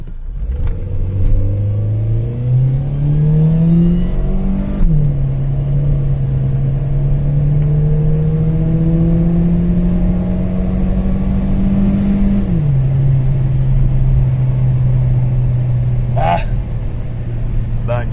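A 2000 Peugeot 406 2.0 with automatic gearbox accelerates hard from 0 to 100 km/h, its engine note rising steadily through two gear changes, heard loud and close from inside the cabin with continuous road rumble.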